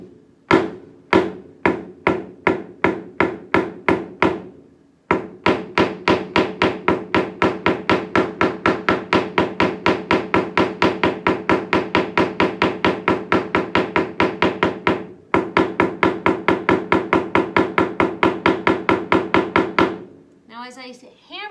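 A hammer strikes flowers laid under fabric on a hard surface to transfer their colour, with dozens of sharp, evenly spaced knocks in quick runs separated by brief pauses, close and loud, and a voice briefly at the end.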